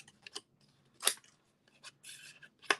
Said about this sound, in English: Ah, my scissors are caught.